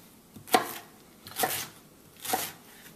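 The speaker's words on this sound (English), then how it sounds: "we're just going to slice it down. And we're going to make sticks." Fresh produce is sliced into sticks for a juicer, three separate knife cuts, each a crisp slicing swish ending in a soft knock on the board, close and evenly spaced.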